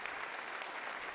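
Applause from the audience at President Yoon's address to the US Congress, a dense, even wash of many hands clapping, steady and fairly soft throughout.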